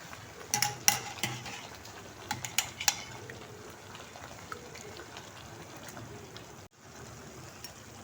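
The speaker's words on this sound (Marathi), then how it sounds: "आता आपण यात भाज्या टाकणार आहोत." Vegetables tipped into a pan of fried Kolhapuri masala and stirred, giving a few sharp clinks of a spoon against the pan early on, then a soft steady sizzle with scattered scraping and no talk.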